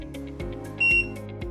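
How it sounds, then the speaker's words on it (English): An IKONN TK-1 kitchen thermometer beeps once at power-on, a short, clear electronic tone that stands out above a steady low background hum. "Press and hold the power button for 2 seconds until the LCD display lights up. The thermometer will make a single beep."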